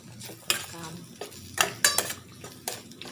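Bitter gourd with a pinch of turmeric gets stirred in a metal pan, a spoon clattering and scraping against the sides in several sharp knocks over a faint sizzle, with no talking.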